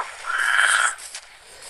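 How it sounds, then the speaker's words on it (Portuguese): Frogs in a terrarium enclosure give one loud, fairly close call lasting under a second, then the sound fades to faint background with no one talking. "Os sapos não param ali"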